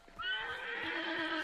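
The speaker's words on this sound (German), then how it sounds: "Da ist ein Pferd." A horse neighs loudly in Hunt: Showdown, a sustained whinny that carries through most of the moment with a faint clip-clop beneath it.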